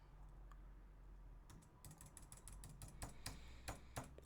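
Quiet, irregular clicking of typing on a computer keyboard begins after a short pause and grows denser, a run of sharp key taps with a low room hum underneath.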